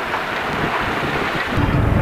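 Strong wind blows steadily at an exposed beach anchorage near boats, a loud continuous rushing roar with buffeting on the microphone that swells slightly toward the end.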